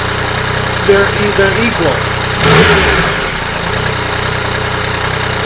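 A 2015 Yamaha FJ-09 motorcycle engine idles steadily, then gets one short rev that swells and settles back to idle, heard close under a speaking voice.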